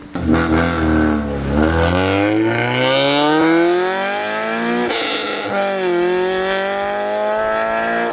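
Loud, rasping exhaust of a Honda CRX SiR glassroof driving on a road, the engine note climbing through revs and shifting gears, close and prominent with no talking.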